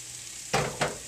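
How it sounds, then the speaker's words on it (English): Two quick bursts of sizzling hiss rise over a steady background hiss, like food hitting hot oil in a pan, close and fairly loud. "you can hear the sizzle"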